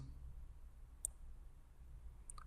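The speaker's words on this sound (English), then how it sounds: "Click on next" Two or three faint, sharp mouse clicks on a computer, spaced apart over quiet low room hum with no talking.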